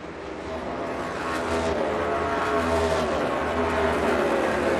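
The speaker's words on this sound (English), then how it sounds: "Car into 3 and 4." NASCAR race cars roar around the track at Nashville during a night race, a continuous loud engine drone with swelling passes, heard at a distance alongside crowd ambience.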